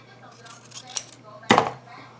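Scissors snip through the edges of a toilet paper tube cuff bracelet at a kids' craft table, giving a light click followed by one louder, crisp cut close by.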